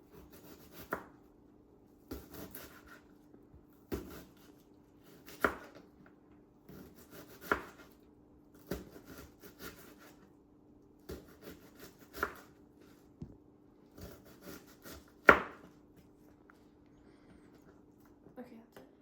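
Knife slicing ingredients for a Thai red curry on a cutting board, about a dozen separate cuts in an irregular rhythm over a steady low hum, fairly close and moderately soft.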